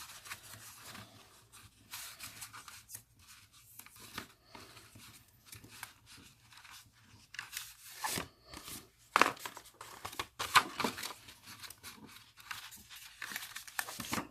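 Paper being rolled into a petal for a handmade paper flower, a quiet run of rubbing, crinkling and rustling with a few sharper crackles toward the middle, close up and with no talk.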